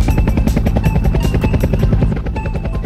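A helicopter at a firefighting site thuds with loud, fast, steady rotor beats from close by. It drones on throughout, and no voices are heard.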